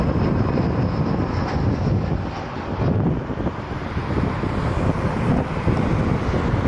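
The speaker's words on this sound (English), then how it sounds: "The wind is picking up a little bit as we go on." Strong gusty wind buffets the microphone at a plane spotting spot at Cleveland Hopkins International Airport, a loud continuous roar that swells and eases, with no voices.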